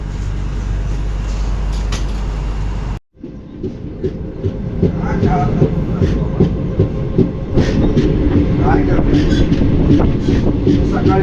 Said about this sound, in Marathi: राजापूर रोडला ट्रेन किती वाजता पोहोचली